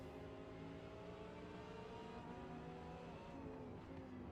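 Audi race car engine in Forza Motorsport revving continuously with rising and falling harmonic tones, loud and steady throughout with no talking.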